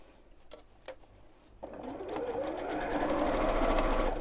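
A domestic sewing machine runs a top stitch through fabric, a steady whirring hum that starts after a few soft clicks and builds to a continuous close drone.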